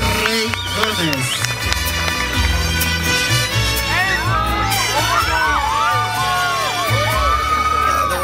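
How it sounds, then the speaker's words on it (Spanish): Loud applause and cheering from the crowd at a quinceañera celebration, a dense, sustained wash of noise layered over music with voices calling out. "que se escuchan fuertes los aplausos"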